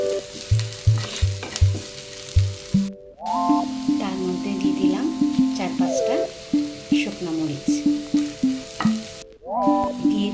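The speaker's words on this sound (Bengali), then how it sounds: "পেঁয়াজ এবং রসুনটাকে একটু সময় করে ভেজে নেব" Chopped onion and garlic fry in a pan for a bean bhorta, a continuous close sizzle running under melodic background music that briefly cuts out twice.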